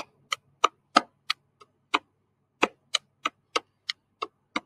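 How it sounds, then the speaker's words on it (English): Juba body percussion, hands patting and slapping the body in a slow pattern of seven sounds repeated twice, about a dozen crisp, close, distinct claps and pats with short gaps and no talk. "Okay, we're gonna practice this pat slowly. Seven sounds in all."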